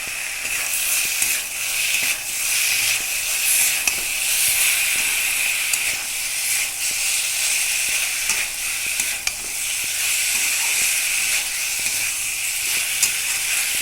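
Garam masala and cumin sizzle loudly and continuously in hot oil, a dense close hiss with faint stirring taps scattered through it.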